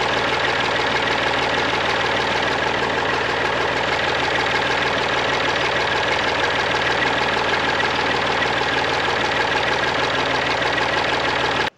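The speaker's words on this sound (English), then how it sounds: "You'll hear the load coming on the tractor there." A tractor engine works under load while running a large log splitter, a loud, continuous rumbling drone that holds steady with no talk.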